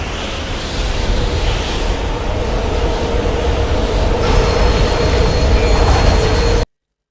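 Loud, continuous train noise from a rail sequence in the action horror game Dead Space 2, a dense roaring rumble with high metallic screeching that builds up and persists throughout, with no talking.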